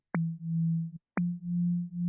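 AI-generated synth bass with an acid character: two sustained buzzy low notes, each opening with a sharp bright attack and holding with a slight wobble, loud and alone with a short gap between them.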